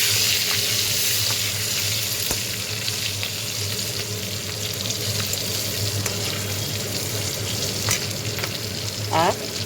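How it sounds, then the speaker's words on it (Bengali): Panch phoron spices sizzling hard in hot oil in a wok, just after green chillies, for a Bengali pui shak curry: a loud, continuous, dense crackling fry with light clinks of stirring throughout. "পাঁচফোড়ন দিলাম, বেশ খানিকটা পাঁচফোড়ন দিলাম"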